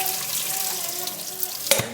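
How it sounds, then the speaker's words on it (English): Water runs steadily through a strainer as cooked lentils are drained for a Bologna-style vegetarian lasagna, a close continuous rushing pour that ends in a brief clatter. "When the lentils are cooked, you strain them."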